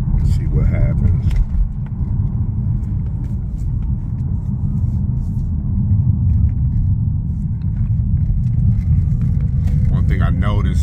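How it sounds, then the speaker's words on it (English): A car's engine rumbles loud and steady from inside the cabin as it pulls hard onto the freeway, with a brief voice near the start. "So I'm about to get on the freeway and do a few pulls and see what happens."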